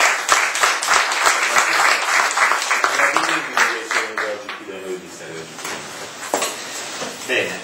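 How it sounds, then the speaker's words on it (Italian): An audience at a neuroscience talk applauds, with loud dense clapping that thins out into a few scattered claps and a voice speaking near the end. "Quindi facciamo un grande applauso."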